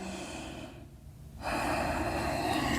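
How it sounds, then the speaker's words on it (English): One slow, audible breath during a Hatha yoga session, a brief quiet pause followed by a steady, soft exhale close to the ear, with no talking. "And taking your last breaths here."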